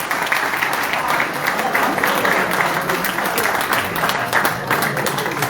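An audience at a local sports awards ceremony applauds the gold plaque winners, a loud, sustained crowd clapping with dense hand claps and a voice or two underneath.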